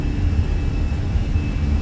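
Airliner engines at takeoff power roll down the runway in Microsoft Flight Simulator, giving a loud, steady low rumble with a thin constant whine above it and no break.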